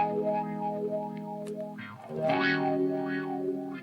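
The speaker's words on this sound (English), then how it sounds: "So it's kind of an automatic wah." A Boss GT-8 guitar effects unit plays a distorted electric guitar through an automatic wah effect. Sustained notes give way to a new phrase whose tone sweeps audibly up and down.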